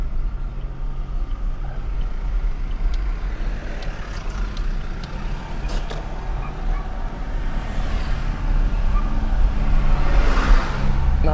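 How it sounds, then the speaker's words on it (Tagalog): Toyota Vios XLE 1.3 engine heard from the cabin while driving, a low steady hum mixed with tyre and road noise that swells slightly toward the end, with no talking. "Naririnig nyo ba yung makina ng Vios mga pare?"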